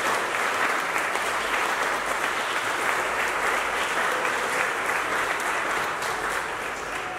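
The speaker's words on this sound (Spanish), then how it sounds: "Vamos a darle un fuerte aplauso a nuestra quinceañera." A church congregation claps for a quinceañera at her fifteenth-birthday Mass, a dense, steady round of applause that stays loud and even for several seconds with no talk over it.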